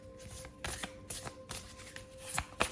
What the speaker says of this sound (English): I am feeling the need to pull one more card